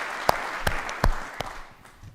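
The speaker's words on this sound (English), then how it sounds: "give our panelists another round of applause for those very excellent speeches" Sparse applause for panelists at a conference session: a handful of distinct claps spaced out over two seconds against a soft background wash, tapering off toward the end.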